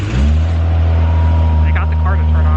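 A car engine catches at the start and settles into a loud, steady idle hum close by, with a voice talking briefly over it near the end.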